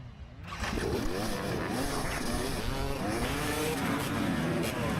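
Many dirt bike engines rev together at a crowded harescramble start line, rising and falling in overlapping whining sweeps, loud and close, kicking in after a brief quieter moment.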